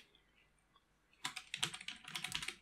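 Computer keyboard typing in a quiet room, a quick run of soft, close key clicks that starts after a silent pause and continues to the end, no talk.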